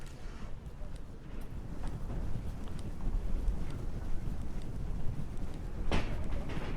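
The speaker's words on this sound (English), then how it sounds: "The wind is picking up a little bit." Gusty wind roars steadily across the microphone on 7th Avenue in Park Slope, Brooklyn, a loud low rumble with faint city sounds beneath it.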